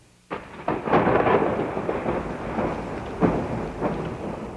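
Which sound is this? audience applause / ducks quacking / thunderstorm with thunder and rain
thunderstorm with thunder and rain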